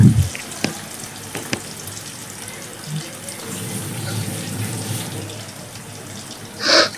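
A chicken leg piece fries in a pan with a steady broadband sizzle, a few faint clinks and a brief louder rustle near the end, no talking.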